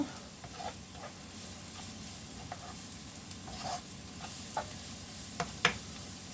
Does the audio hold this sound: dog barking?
no